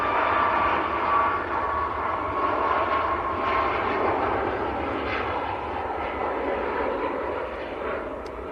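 A Ryanair airliner takes off at Manchester Airport, its jet engines a broad, steady roar that slowly fades with distance and carries no talk.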